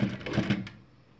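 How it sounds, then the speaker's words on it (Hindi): Rapid mechanical stitching from a sewing machine running along a strip of pleated fabric for a neck design, a short burst of close, rhythmic clatter that stops partway and falls quiet. "फिर बीच में सिलाई लगा देंगे इस तरह से"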